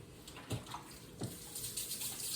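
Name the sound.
rinsing hands under a tap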